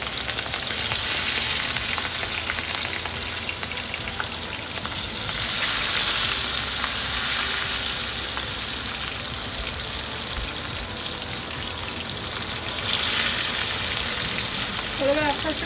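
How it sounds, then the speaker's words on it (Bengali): Fish pieces fry in a covered pan of oil with a loud, continuous sizzle that holds steady throughout and swells in a couple of places. "তা চলো মাছটা এবার ভাজতে দিয়ে দিই।"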